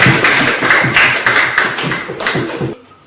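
Classroom applause, a close, loud burst of many hands clapping in a steady rhythm for about three seconds before cutting off abruptly.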